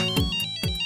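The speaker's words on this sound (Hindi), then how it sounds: "अरे हर्षिता, बहुत सालों बाद फोन किया।" A phone ringtone chimes twice in a short melodic pattern, bright and fairly close, with no talking over it.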